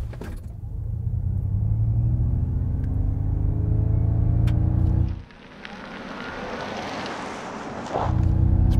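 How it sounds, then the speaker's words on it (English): A 2021 Ford Mustang Mach-E First Edition electric car pulls away with a rising whine over road rumble, eases off briefly, then accelerates hard again close by. "2021 Ford Mustang. Mach-E first edition without launch control."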